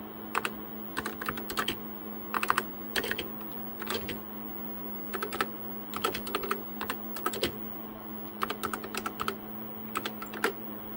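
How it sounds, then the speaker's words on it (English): Keystrokes on a TRS-80 Model 16 computer keyboard, arriving in irregular bursts of sharp clacks over a steady machine hum for about eleven seconds, close and moderately loud. "look, I can type."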